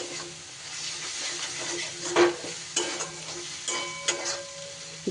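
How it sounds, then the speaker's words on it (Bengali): Ground spices with a splash of water being stirred in a pan for spiced okra curry, soft sizzling under scraping spatula strokes and a few sharp clinks against the metal, no talking. "খুব ভালো করে সব মশলা এভাবে মিশিয়ে নেব"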